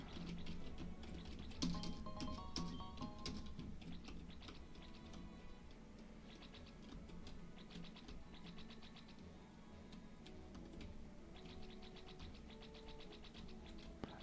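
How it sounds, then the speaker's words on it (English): Footsteps through rain in Pokemon Infinite Fusion, a rapid, steady ticking patter that runs throughout beneath continuous background game music, with no talking. "This is what it sounds like when I walk in the rain."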